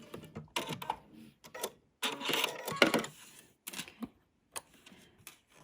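A sewing machine with a quarter-inch foot stitches quilt fabric for a Tula Pink butterfly quilt, short bursts of rapid mechanical clatter that stop and start, close and moderately loud, with brief pauses between runs.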